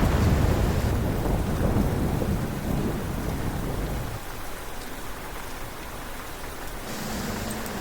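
Steady heavy rain with a deep rumbling roar of wind or distant thunder, loud and continuous, easing slightly midway through.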